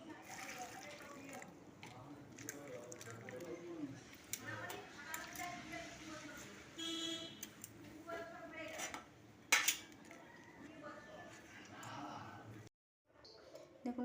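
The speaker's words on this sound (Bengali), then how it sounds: "সোয়াবিনটাকে এইভাবে ভালো করে ধুয়ে নেব।" Soybean chunks are washed in a bowl, with water sloshing and dishes and utensils clinking steadily at close range, and a brief louder knock near the end before a short pause.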